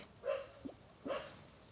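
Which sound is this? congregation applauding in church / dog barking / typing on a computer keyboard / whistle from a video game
dog barking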